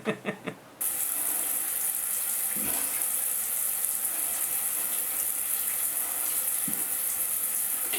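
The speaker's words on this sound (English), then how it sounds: "Here's some shots of me in the shower." A household shower runs with a steady, hissing spray of water, loud and continuous after a short quieter start, with no talk over it.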